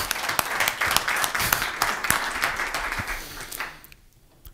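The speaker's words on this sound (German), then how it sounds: "Dein Applaus." An audience at a sales coaching seminar applauds, a dense burst of clapping that holds steady for about three seconds and then fades out.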